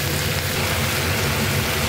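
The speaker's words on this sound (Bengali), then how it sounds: "এবার এটা আমি ভাজা করে নেব।" Chopped ivy gourd (kundru) with turmeric and salt fries in a pan, giving a dense, even sizzle that stays close and constant throughout, with no voices.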